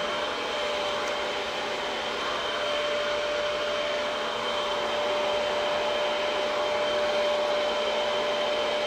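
A hair dryer fitted with a diffuser, used to dry curly hair after a haircut, blows as a steady, loud, continuous whoosh with no talking.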